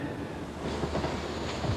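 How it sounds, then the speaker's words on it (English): Train runs out of the Neville Hill depot at night, a close, steady rolling rumble with faint clicks of wheels on rail and no voices. "the trains are run back out into the night"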